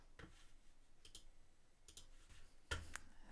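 Computer mouse clicks on a Mac, several faint, sharp clicks spaced apart in a quiet room, with a louder cluster of clicks near the end.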